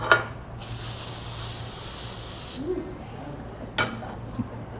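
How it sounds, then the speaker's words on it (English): A short steady hiss of cooking spray lasting about two seconds, close up, followed by a brief second puff and faint background noise. "I'm gonna spray my pan lightly"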